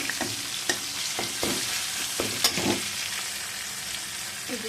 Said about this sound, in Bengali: রসুনগুলো একটু ভাজা ভাজা হয়ে গেলে